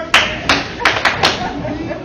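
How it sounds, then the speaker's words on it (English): Several sharp, heavy thuds land in an irregular run as a wrestler is body-slammed onto the ring mat during a pro wrestling triple threat match, with a commentator talking over the impacts. "Big time body slam."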